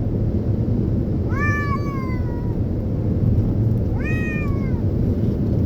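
A black cat on a trip lets out two drawn-out meows, clear and fairly close, spaced a few seconds apart over a constant low rumbling background.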